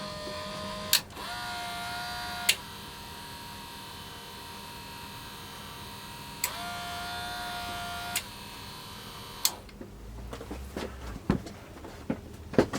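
A power feed runs engaged, giving off a steady motor hum with a faint whine, punctuated by sharp clicks and short pitch shifts as it is switched, then fades into clattery handling noises near the end.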